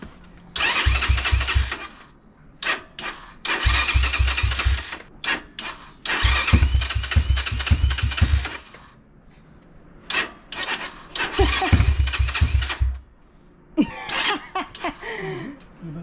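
An SMX250 motorcycle engine struggles to start, with about five loud, rough cranking bursts separated by short pauses, then a brief voice near the end.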